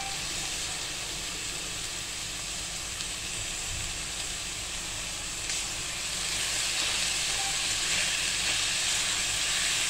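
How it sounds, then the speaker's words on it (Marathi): Tomatoes and onions sautéing in a pan for an egg dish give a steady, dense sizzling hiss that continues evenly throughout, close and fairly loud. "आता आपल्याला टोमॅटो पण हा छानपैकी परतून घ्यायचा आहे"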